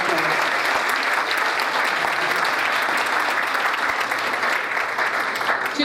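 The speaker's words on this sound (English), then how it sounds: "let's give them a big round of applause." Sustained applause from a gala audience at a Nowruz fundraising celebration, many hands clapping in a dense, even roar that carries on steadily without letting up.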